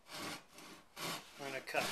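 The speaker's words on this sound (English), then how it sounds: "Now we're going to take the saw." A hand saw cuts through wood in back-and-forth strokes, with rhythmic rasping bursts close up and no talking.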